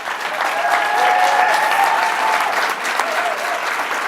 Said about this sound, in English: I should say hold the applause